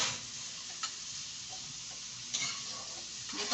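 Food frying in a pan on a stove, a low steady sizzle with a few faint clicks and scrapes.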